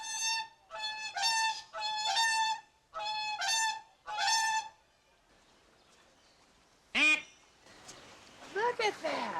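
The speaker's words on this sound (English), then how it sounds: "That's the universal distress call of the mallard-like ducks" Mallard-like ducks at an aviary give their distress call: a burst of five loud, harsh, nasal quacks in quick succession, a short pause, then scattered further squawks and cries from other birds nearby.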